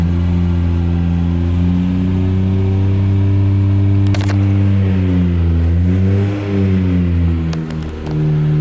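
A twin-turbo JDM car, just converted from automatic to a five-speed manual, drives at a steady loud engine drone whose pitch rises and dips slightly, heard close from inside with brief clicks and no talk.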